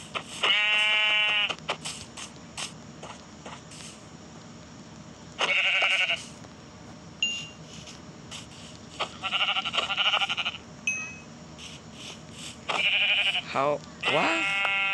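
Sheep in the Minecraft video game bleat in short, buzzy, repeated bursts, loud and close, separated by quieter game ambience while a person speaks between them.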